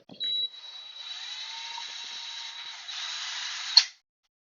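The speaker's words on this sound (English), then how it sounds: "I'm gonna have to drill that hole back out." A small handheld drill bores back through a hole in a resin Christmas ornament, a thin, high, steady whine that runs alone for about three and a half seconds before spinning down, with a brief click at the start.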